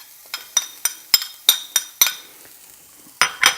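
A utensil strikes a cast iron skillet in a series of sharp, close clinks and scrapes while finely minced shallot cooks over medium heat, with a faint sizzle between the hits.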